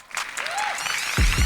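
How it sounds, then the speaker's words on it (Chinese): An audience claps for a dance duo performing together on a competition stage. The brief applause rises to a fuller burst toward the end, with a faint tonal sound in the middle. "应该要给他们一个掌声"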